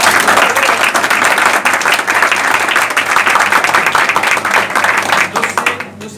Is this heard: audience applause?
yes